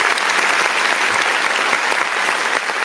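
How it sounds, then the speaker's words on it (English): Steady hand-clapping applause from a group, loud and dense, filling the whole stretch without a break and with no talk over it. "let me find my hand claps for you, bro."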